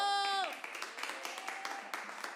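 Scattered audience applause at a comedy showcase starts after a brief tonal sound fades, then continues as light, uneven clapping at moderate volume.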